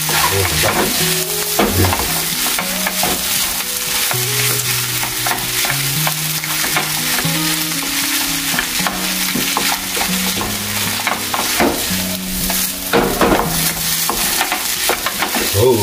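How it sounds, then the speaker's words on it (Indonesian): Village-style fried rice with squid stirred and tossed in a hot pan, with continuous sizzling and frying and repeated scraping and clattering of the utensil, loud and close, with background music and no talk. "Nah, ini masih diaduk-aduk terus."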